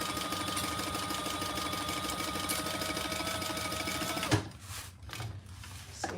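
A sewing machine top stitches across the top of a Monarch Mini bag, running steadily and fairly close for about four seconds before stopping abruptly, followed by faint handling sounds.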